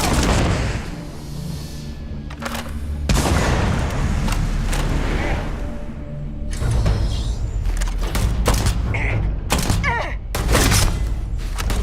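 Gunfire fills a video game firefight in the Ryujin Industries questline, with repeated loud shots and thuds in bursts over a constant background rumble.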